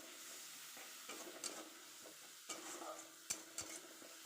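Coriander and cumin powder paste, loosened with a little water, fries in a pan for an oyster curry, a soft, low sizzle with occasional spoon scrapes and clinks against the pan.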